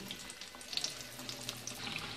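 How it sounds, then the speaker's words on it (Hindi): Chicken kachoris frying in hot oil over low heat, a faint, steady bubbling crackle with small scattered pops, heard alone. "ये देख सकते हैं आप कि लाइट ऑन पे मैंने इन्हें फ्राई होने के लिए रखा है"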